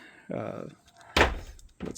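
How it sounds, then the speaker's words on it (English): A cabin's screen door opens with a sharp clack and rattle, close by, after a short stretch of talking, with a softer bump following. "Nice screen door, so you can open this door if you'd like"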